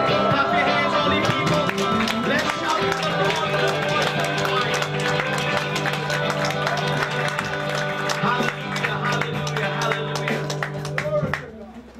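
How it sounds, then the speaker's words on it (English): A church congregation clapping hands during a service, steady rhythmic claps and crowd noise under a preacher's loud voice and sustained organ or keyboard chords. "Clap your hands, holy people."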